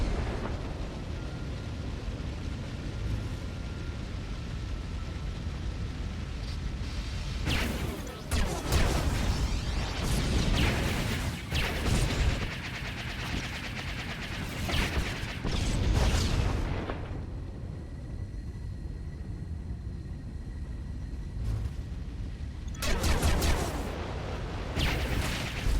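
Missiles striking and destroying a bridge in SWTOR, heard as a series of deep explosive booms and crashing bursts over a steady rumbling background, with heavier blasts clustered in the middle and one near the end.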